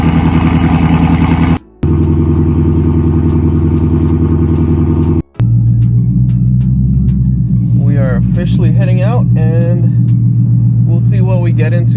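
2024 Ford Mustang GT engine, a loud, low steady rumble that carries on through two brief cuts, with a person talking over it toward the end.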